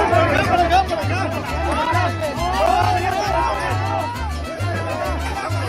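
A crowd of protesters in Mexico makes a loud, continuous mix of shouting and chatter, with voices overlapping and a steady rhythmic beat underneath.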